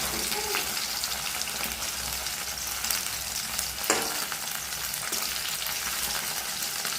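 Home-grown garden eggplant frying in a pan, giving a steady, close, broadband sizzle that runs the whole time, with one brief clink of a utensil partway through.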